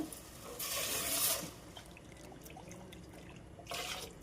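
Water from boiled lentils splashes into a cooking pot in two short, loud pours, with a quieter trickle in between.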